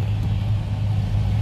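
A car's steady low engine and road rumble drones continuously from inside the cabin while driving around, with no talking.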